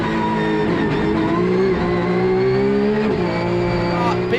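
Porsche 992 GT3 race cars at Indianapolis Motor Speedway in a racing game roar side by side, engines holding a loud sustained drone with a shift-like dip partway through and no talk.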